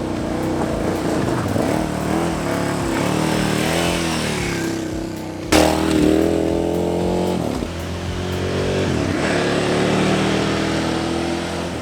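KTM 990 Adventure R motorcycle ridden fast along an open trail, its engine loud and close with rising and falling revs, gear changes and a sharp throttle burst midway, under steady wind rush.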